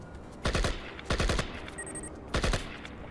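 Three short automatic bursts from a gun fired at a wall in the Project IGI shooter game, each a rapid cluster of sharp shots separated by brief pauses, with a faint beeping tone between.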